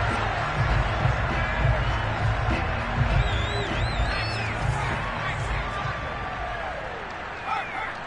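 At a Buccaneers vs Falcons football game, a stadium crowd roars and shouts in a steady dense wash, with scattered whistles and whoops and continuous loud background noise.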